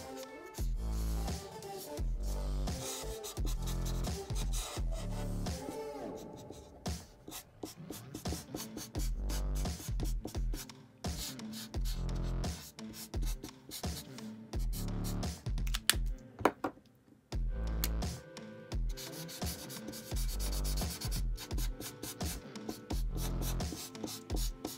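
Ohuhu alcohol markers with chisel tips scratch and rub across a paper coloring page, close and quiet, in uneven bursts of short strokes with brief pauses.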